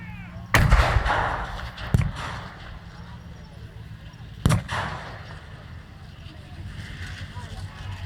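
British 25-pounder artillery guns fire at a WW2 re-enactment, three sharp, loud booms spaced a few seconds apart over a noisy outdoor crowd background with some talk.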